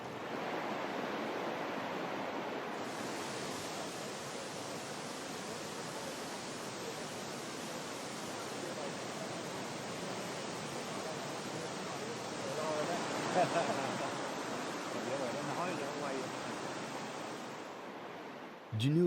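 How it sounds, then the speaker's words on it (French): Elephant Falls, a 30-metre waterfall near Dalat, Vietnam, produces a steady broadband rush of falling water that stays even and continuous throughout, heard from a moderate distance. "la cascade de l'éléphant est l'une des plus visitées de la région"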